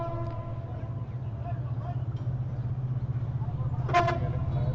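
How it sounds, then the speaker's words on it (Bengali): A train arriving at Halishahar railway station rumbles steadily at a distance with a low, continuous roar, and a brief horn toot sounds near the end. "ট্রেন চলে আসছে।"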